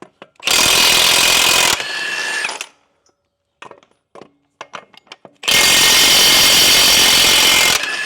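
A heavy 1-inch impact wrench fires in two loud, sustained bursts of close, hammering rattle, each about two seconds long, with a quiet pause of small clanks between them.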